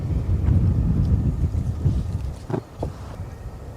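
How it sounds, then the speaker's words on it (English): Wind buffeting a microphone outdoors while someone cooks out of the back of a vehicle, a steady low rumbling roar that lasts throughout, with a couple of brief knocks near the end. "It is tough to cook out of the back of a tag when the wind is blowing"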